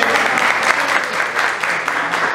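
A group audience claps loudly and continuously in a steady, dense wash of applause heard close up for a couple of seconds.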